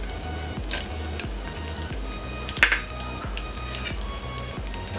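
Almonds and pistachios sauté in a pan for a Zarda rice dish. Steady, soft sizzling and frying carry on throughout, with light ticks and one brief clatter near the middle.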